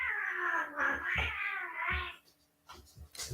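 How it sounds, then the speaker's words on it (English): Cats fight indoors in loud, wavering yowls and caterwauls, long drawn-out howls broken by short gaps and a few sharper cries near the end. "Cats are having a fight."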